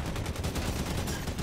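Rapid video game gunfire, a fast run of loud repeated shots like automatic weapon bursts packed closely together, sounding close and continuous for the whole moment with no voices.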